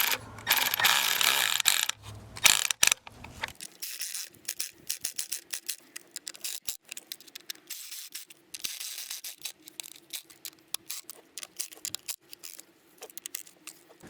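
A ratchet wrench clicks in quick repeated bursts while bolts are tightened on the valve cover of a BMW N20 four-cylinder turbo engine, preceded by louder metallic handling and rattling up close.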